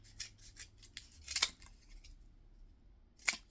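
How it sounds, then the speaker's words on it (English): Scissors snip through a paper template for a DIY plasma blade, a few sharp close cuts in quick succession with a pause before one last crisp snip. "Now we just cut down this side."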